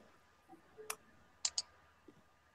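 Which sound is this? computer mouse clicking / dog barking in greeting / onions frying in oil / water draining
computer mouse clicking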